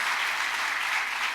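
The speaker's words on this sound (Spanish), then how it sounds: "Dele fuerte palmas, Señor." Steady, dense applause from a congregation at a Spanish-language evangelical church service, a continuous wash of many hands clapping at fairly close range with no voices over it.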